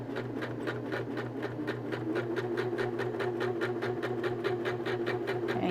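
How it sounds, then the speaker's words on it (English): A sewing machine runs a quarter-inch quilting seam on fabric, a steady, close mechanical hum with rapid, evenly spaced needle ticks throughout and no pauses. "I'm just going to stitch down that seam"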